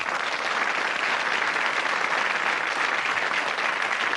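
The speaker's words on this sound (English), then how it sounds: "let's give a round of applause for the new contestants" Studio audience applause for new contestants on a 1984 British television quiz show, a steady wash of clapping that holds evenly throughout with no talk over it.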